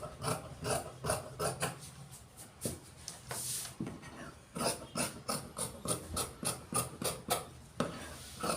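Scissors cutting cloth for a men's full-sleeve shirt, a close rhythmic series of rasping snips and fabric rubs repeating about twice per second, with a brief pause midway.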